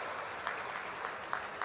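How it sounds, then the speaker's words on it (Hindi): Brief applause greets a guest at a political rally, a fairly soft, distant patter of clapping from the crowd with a couple of slightly sharper bursts. "एक बार जोरदार तालियों से माननीय भाई साहब का स्वागत और अभिनंदन।"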